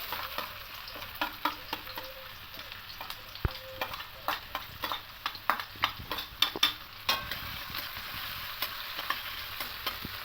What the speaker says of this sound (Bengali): এখানে পেঁয়াজ কুচিটা দিয়ে দেবো